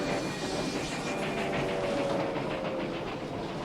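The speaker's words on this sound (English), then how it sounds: "There's a train." A passing train in the 1986 film Stand By Me: a loud, steady rumble and rattle with faint rhythmic clatter that holds for several seconds, with no voices.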